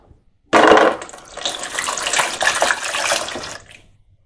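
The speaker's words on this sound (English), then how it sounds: "I'm going to wash my hands." Running kitchen tap water gushes steadily as hands are washed beneath it, a loud close splashing stream that starts abruptly and continues for a few seconds before shutting off.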